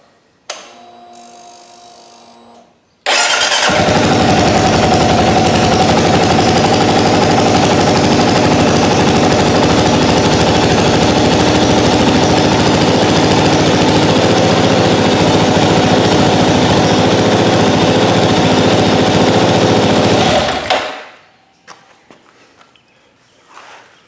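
A brand-new 2022 Kawasaki KLR 650 motorcycle fires up abruptly and holds a loud, steady, close idle for about eighteen seconds. Then the engine cuts off and winds down into quiet.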